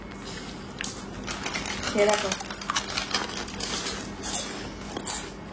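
Crunchy tube-shaped nal papad snacks are snapped apart by hand, making short, crisp crackles and brittle crunches in irregular bursts close by, with people talking over them.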